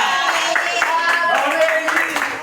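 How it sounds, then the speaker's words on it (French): Applause from a crowd gathered for a club president's speech in Cameroon, steady dense clapping held at a fairly loud level for a couple of seconds, with voices and cheering mixed in. "Applaudissez aussi pour moi."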